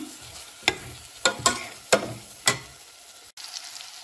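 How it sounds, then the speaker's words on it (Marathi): Frozen peas are sautéed in a pan for Mumbai street-style pav bhaji: a low sizzle broken by five crisp spatula clacks and scrapes, then a brief pause before the frying resumes. "आता हे छान थोडे 5 मिनिट छान मी परतून घेते"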